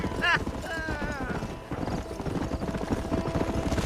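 Horse hooves galloping in the Western video game Red Dead Redemption, a steady clip-clop rhythm running throughout, with a brief whinny near the start under ambient game sound.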